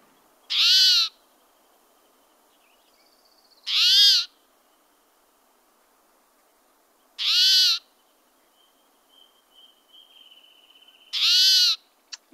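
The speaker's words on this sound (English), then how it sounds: "play the bird noise" An owl-like bird call played back for listeners: four loud, evenly spaced hoots about three seconds apart, each a short harmonic burst, with a faint thin tone between them and no talking.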